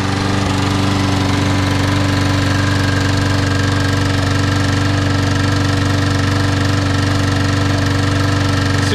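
A small Troy-Bilt gas engine runs loud and close, holding a steady, buzzing drone with a constant rapid firing rhythm and no change in pace throughout.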